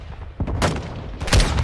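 Gunfire rings out in Call of Duty: Modern Warfare II, a few sharp, loud bursts and booms spaced irregularly over a dense, noisy battlefield background, with no voices.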